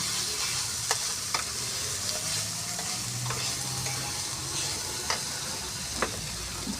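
Spice masala and chopped tomatoes fry in a pan for a spinach dish, with a steady, loud sizzle and occasional sharp ticks of a spoon scraping and stirring.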